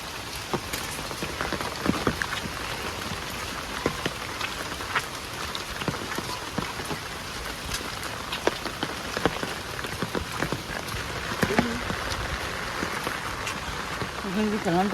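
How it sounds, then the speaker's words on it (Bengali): Heavy rain pours steadily onto surfaces nearby, with scattered louder drops and splashes throughout. "অনেকদিন পর এত বড় বৃষ্টি হলো"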